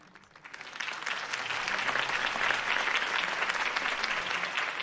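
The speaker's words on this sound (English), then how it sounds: "could have heard that applause" Crowd applause swells from a campaign rally in Batman: The Telltale Series, rising from quiet to a steady, dense clapping that holds evenly at moderate loudness without speech.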